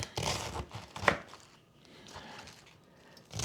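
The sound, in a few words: chopping cabbage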